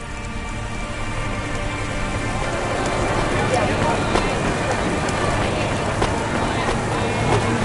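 Steady rain hisses and patters continuously in the video game Cloudpunk, growing slightly louder, with game dialogue voices over it.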